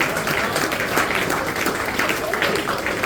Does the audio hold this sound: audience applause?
yes